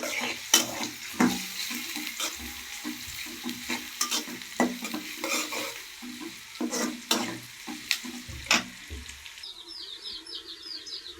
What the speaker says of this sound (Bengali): পেঁয়াজটা ভাজা করব।